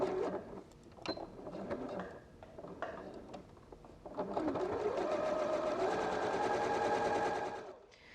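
A sewing machine stitches pieces of a Christmas tree quilt block. After a few short bursts and handling noises it settles into one long, steady, close run of rapid whirring stitches, then stops.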